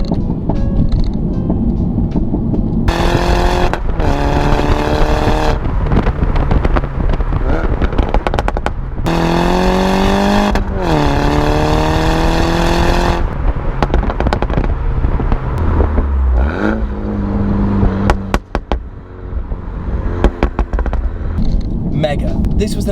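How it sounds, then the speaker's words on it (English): A Mini Cooper S with a Remus sport exhaust revs hard, with crackles and pops between throttle blips, loud and close throughout. "It is the most unbelievable sounding exhaust."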